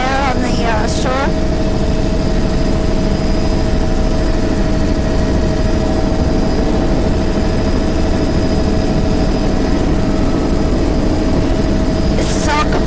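Steady, loud helicopter engine drone filling the whole stretch from a regular helicopter flying over bare sand near a shore and delta, with a constant low rumble and whine.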